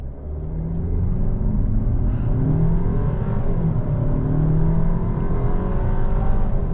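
A VW Tayron R-Line in sport mode accelerates hard from a standstill toward 100 km/h, heard from inside as a continuous rising engine drone with a road rumble and gear-change shifts in pitch, with no talking.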